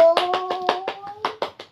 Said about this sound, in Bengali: হাততালি দাও, হাততালি দাও, হাততালি দাও